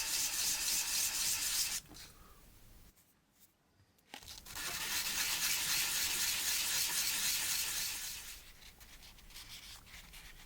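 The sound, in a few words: wet sanding laser cut parts with abrasive paper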